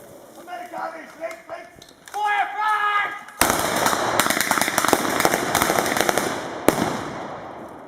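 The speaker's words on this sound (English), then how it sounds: "You can hear some artillery there, and there'll be a little bit of mortar fire as well." At a WWII reenactment, blank replica cartridges fire from rifles and submachine guns as rapid, loud cracking volleys, with heavier artillery and mortar booms in the mix. Someone speaks at first, then the sustained barrage takes over.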